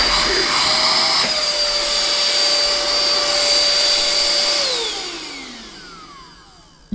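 Hoover ONEPWR handheld cordless vacuum cleaner runs at arm's length with a steady high motor whine, then spins down and fades near the end, ending with a small click.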